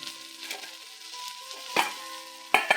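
Drumstick leaves frying in a pan, with a steady soft sizzle and a couple of sharper clinks or stirs standing out near the end, heard up close with no talking.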